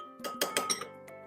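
A basting sauce for pork ribs, made with barbecue sauce, is mixed in a bowl, producing a quick run of bright clinks and taps over about a second, close and clear with no talking.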